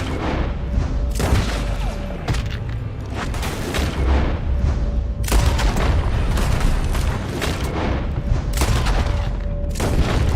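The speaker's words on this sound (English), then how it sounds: "They're shooting from that building." Dense gunfire and booming shots from a firefight in the video game Red Dead Redemption 2, with rapid overlapping reports, bursts and heavy blasts rolling continuously across ten seconds, loud and close.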